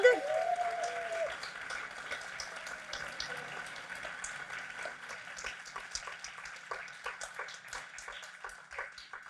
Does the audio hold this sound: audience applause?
yes